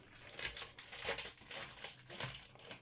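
A pack of recycled-paper scrapbooking cards, made in France, is opened up close, giving a few seconds of steady crinkling and rustling paper with soft crunches and no voices.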